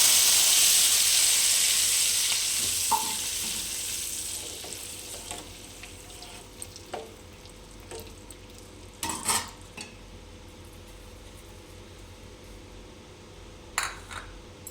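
Mashed toor dal poured into a frying tomato mixture and stirred, a loud steady sizzle at first that fades to a quieter simmer with occasional spoon scrapes and clinks against the pan.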